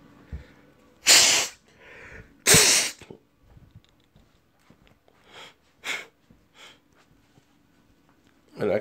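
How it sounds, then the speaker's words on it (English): Two sharp, loud sneezes burst out close by, followed by sniffs and soft breathy snorts with quiet pauses between. "And I keep sneezing."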